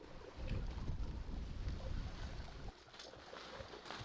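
Wind buffets a microphone in low, steady gusts, a rough outdoor rush with no voices.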